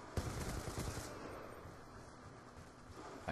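Rapid automatic gunfire in a first-person shooter match, a dense burst of shots in the first second that trails off into rumbling background battle noise.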